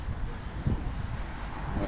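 Wind buffets a microphone outdoors on a quiet autumn day in Palmanova, Mallorca, producing a low, continuous rumble with faint gusting.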